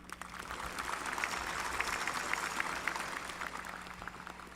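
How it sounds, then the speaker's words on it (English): Crowd applause at a high school graduation ceremony, a steady dense wash of clapping heard from a distance at low volume and without a break. "Give him a round of applause again"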